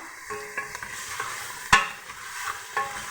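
Hmissa pepper sauce is stirred into a hot pot for a bell pepper tagine, giving a steady close sizzle with scraping utensil strokes and one sharp clack of metal against the pot.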